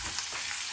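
Onions and green chilies frying in a pan for gongura rice, a steady broadband sizzle holding level throughout the short moment, close and fairly quiet, with no voices.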